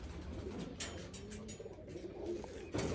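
Pigeons in a breeder's loft coo steadily in low, rounded notes, several birds overlapping at close range, with a few brief flutters and sharper sounds breaking through near the end.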